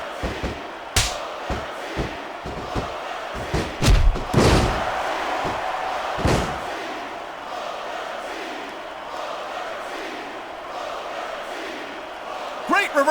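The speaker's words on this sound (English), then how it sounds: "I love hearing the crowd come alive" Arena crowd at a WWE Judgment Day 2005 wrestling match between two wrestlers roars and shouts steadily throughout, punctuated by loud ring slams and thuds, with commentators talking over the noise.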